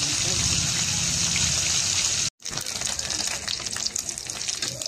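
Tawilis, small fish, fry in a generous amount of oil with a loud, steady sizzle that cuts out briefly and then returns with crackling bursts.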